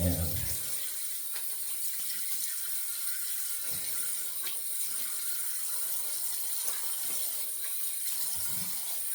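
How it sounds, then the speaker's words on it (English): Tap water runs steadily into a sink while a shaved head is rinsed, a constant soft splashing hiss with occasional light knocks and splashes. "we'll rinse our head"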